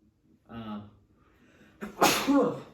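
A single sharp sneeze bursts out close to the microphone during a casual footy review chat, preceded by a brief intake of breath.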